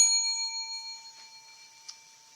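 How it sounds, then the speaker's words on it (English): A single bell rings with a clear metallic strike at the start, its bright tone fading slowly through a long ringing decay in a quiet room. "I'm going to ring the bell."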